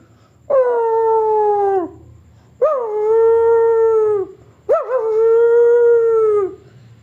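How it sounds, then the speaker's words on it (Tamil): A dog howls three times in long, mournful, sliding tones, each lasting over a second, loud and close with short pauses between. "நாய் ஊளையிடும் சத்தம் தொடர்ந்தது."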